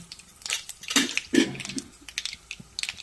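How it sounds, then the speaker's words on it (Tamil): Mustard seeds splutter and pop in hot oil in a kadai, close, irregular crackling bursts for a few seconds, alone without talk. "கடுகு நல்லா பொரியட்டங்க."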